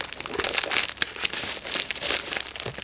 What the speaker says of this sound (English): Before I start slicing this packet open